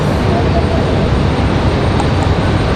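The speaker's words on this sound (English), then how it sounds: "Sun Country coming in from Wilmington" A Sun Country airliner arriving at Raleigh-Durham airport, a loud, steady engine roar that fills the whole stretch without letting up.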